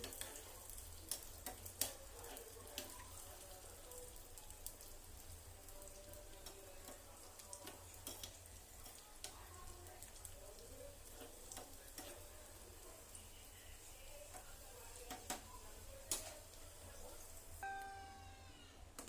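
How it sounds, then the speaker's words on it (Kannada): Raisins frying in ghee in a pan for rice-ball payasam, a soft steady sizzle with frequent light clicks and ticks from stirring, close and fairly quiet, no talking. "ಈಗ ದ್ರಾಕ್ಷಿ ಸ್ವಲ್ಪ ಹಾಕಿದೆ, ಚೆನ್ನಾಗಿ ಫ್ರೈ ಮಾಡಿ ತುಪ್ಪದಲ್ಲಿ"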